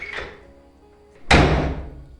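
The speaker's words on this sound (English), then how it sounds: "Zoravar pushed open the door." A door is pushed open as an audiobook sound effect. A soft rustle comes first, then a sharp, close thud-like swing with a short decaying tail.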